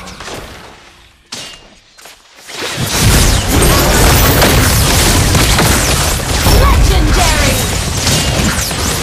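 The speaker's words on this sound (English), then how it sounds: "You destroyed a turret" An explosion erupts as a turret is destroyed in the mobile game Mobile Legends, a loud sustained blast of booming, crashing debris following a couple of quieter sharp hits.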